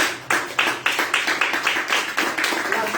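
A church congregation applauds steadily, with a rhythmic clapping pulse running through the dense, even clatter of many hands.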